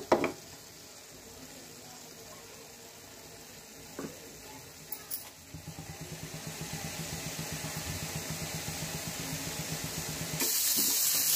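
Paneer lightly frying in a pan for paneer matar sabji, a soft steady sizzle that thickens into a denser crackle partway through, with a few scrapes and clinks, close and moderately quiet with no talking.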